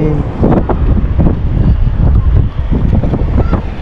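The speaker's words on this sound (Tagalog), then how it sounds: "Lakas ng hangin." Strong wind buffeting the microphone with a loud, steady low roar and gusty rumbles throughout.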